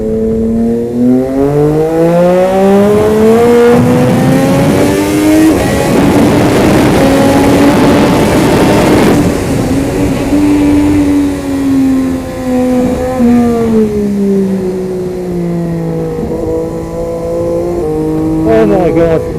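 Triumph Moto2 prototype motorcycle, its three-cylinder race engine revving loud and close at speed, pitch climbing and dropping through gear changes for the whole stretch, with a voice talking over it.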